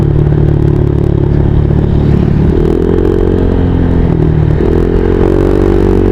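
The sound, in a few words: motorcycle riding at night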